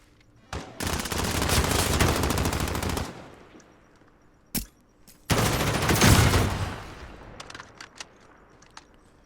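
Call of Duty match audio with two long bursts of automatic gunfire, loud and dense, each lasting a few seconds, separated by a single sharp shot and followed by scattered faint pops.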